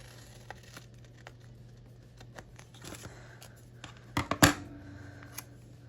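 Scissors trimming stickers on a page, quiet crinkles and small snips building to a couple of sharp, close cuts and a crisp paper rustle near the end.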